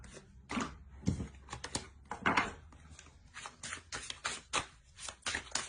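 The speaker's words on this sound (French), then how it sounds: "On va tirer une carte conseil." Tarot cards are drawn and shuffled from a deck in a series of crisp, close papery flicks and taps, irregular and fairly quiet, with no voice.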